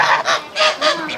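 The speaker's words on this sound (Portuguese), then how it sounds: "Olha o ganso." A goose on a rural farm honks four or five times in quick succession, loud and close, with nothing else heard.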